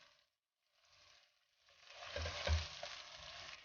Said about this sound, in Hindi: गोल्डन होने तक फ्राई करेंगे।